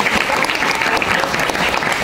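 An audience of high school students claps in a hall during a question session, giving a dense, loud, steady burst of applause that carries on without a break.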